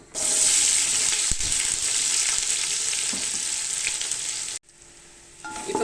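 Chopped onions sizzle loudly in hot oil with whole spices, stirred in a large pot of chicken curry made for 25 people. The frying hiss stays steady, drops out briefly near the end, then resumes.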